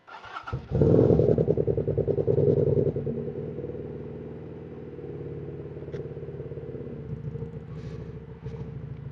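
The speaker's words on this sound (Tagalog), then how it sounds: "Start natin yung engine." A motorcycle engine cranks and catches with a loud, close roar, then holds a throbbing, rumbling run before easing into a steadier idle that continues to the end.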